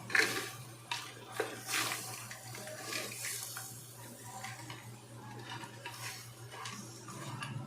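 Crab pieces stirred in a pan for a crab roast, with repeated clinks and scrapes of a spoon on metal and wet shuffling, close and fairly quiet over a steady low hum, no talking.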